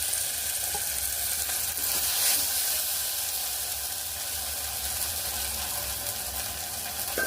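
Ground masala sizzles as it goes into frying onions in a pan for a sprouted chickpea gojju, a steady close hiss running unbroken with no one talking.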